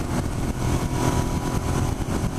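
A stock Suzuki SV650 motorcycle engine revs hard while accelerating through the gears near 6,000 RPM, a loud steady rumbling drone with a wind-buffeted roar and no talk.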